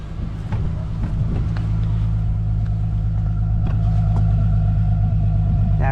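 A car engine idles steadily after a sticking starter was fixed, a continuous low rumble with a smooth even hum held for the whole stretch, close and fairly loud, with no talking over it.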